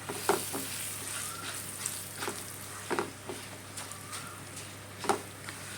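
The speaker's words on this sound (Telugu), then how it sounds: "సరిపడ ఉప్పు పసుపు పసుపు ఎక్కువే వేసుకున్నాం పప్పు కాబట్టి బాగుంటుందని వేసుకుని మనం సిమ్లోనే మనం అలాగా మెల్లగా ఫ్రై చేయాలి" Toor dal fries slowly in a pan over a low flame with salt, turmeric and dried red chillies, a faint gentle sizzle broken by scattered soft pops and clicks.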